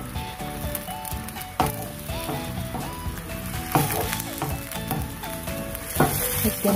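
Shrimp going into a hot pan with Alfredo sauce for a seafood lasagna, a loud, steady sizzle close by, with a few sharper bursts and clatters as they are stirred in.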